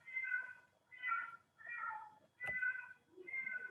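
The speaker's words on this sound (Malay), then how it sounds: "Kalau kamu dengar bunyi kucing lah." A cat meows five times in a steady series of drawn-out calls, fairly close and alone, with a brief sharp knock in the middle.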